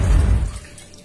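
Soaked tamarind squeezed by hand and its water poured into a pot of rasam: a short, loud watery splash that quickly fades.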